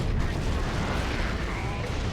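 Sternguard Space Marines fire Kraken bolts in Warhammer 40,000: Dawn of War 2, a dense, continuous rumble of booming gunfire and explosions against Orks with no letup.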